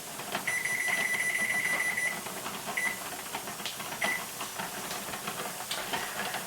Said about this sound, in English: it's steaming pretty good